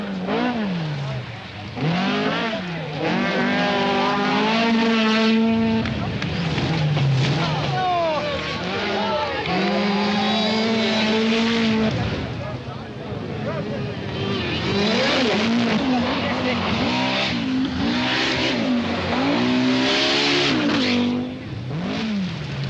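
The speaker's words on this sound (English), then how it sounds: "and soon he goes past Bettiger's Lancia." Lancia and Audi rally cars race on the 1983 Sanremo Rally, their engines rising and falling in pitch as they rev, shift and sweep past, loud and sustained, with a commentator talking over them.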